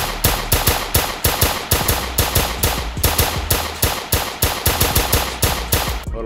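Rapid automatic gunfire rattles through a Roblox hood roleplay game, loud sustained bursts of evenly spaced shots repeating for several seconds with no talking.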